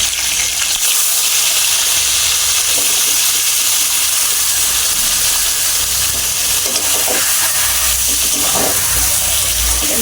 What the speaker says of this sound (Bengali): তো মাছের মাথাগুলো ছেড়ে দিলাম।